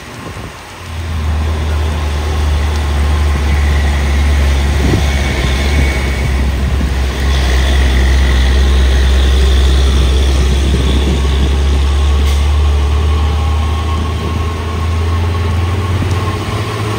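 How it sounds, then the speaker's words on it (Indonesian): A Hino CPO tanker truck engine labors in a deep, steady low drone under full throttle, loud and close for the whole stretch, with rain noise behind it and no talking. "Dari bawah truk tangki CPO Hino. Gaspol."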